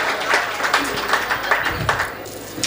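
An audience applauding at a comedy show, a steady wash of clapping from many hands that swells and dips slightly throughout, close and fairly loud.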